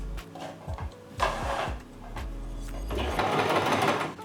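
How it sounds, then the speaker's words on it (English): A sewing machine stitches fabric in short bursts of whirring, with brief pauses between runs and a longer steady run at the end, close and fairly loud with no talking. "But I'm just gonna sew it. Let's get sewing."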